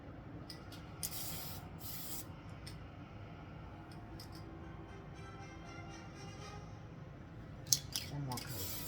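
Spray can laying a Light Ghost Gray coat on a 1/1000 Polar Lights USS Enterprise model kit, heard as several short close hissing bursts over a steady room hum, with a few clicks near the end.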